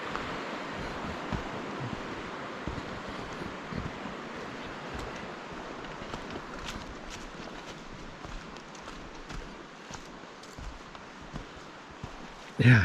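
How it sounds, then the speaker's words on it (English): Steady broadband rush of the Sol Duc River flowing through forest in Olympic National Park, Western Washington, a continuous near roar of moving water with faint scattered knocks and a brief louder bump at the very end. "So that is the Sole Duck River."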